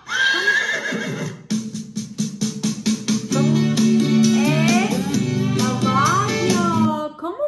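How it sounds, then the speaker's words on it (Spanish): A horse neighs loudly and close, a long shaky whinny with rapid pulsing bursts that repeat for several seconds, alone without talk. "Vamos a escucharlo Caballo."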